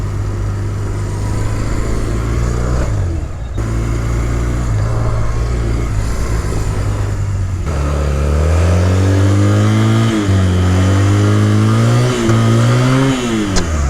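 A 250cc sidecar motorcycle engine revs steadily and loudly during emergency swerving practice, its drone dipping briefly and then climbing in pitch with repeated throttle surges toward the end.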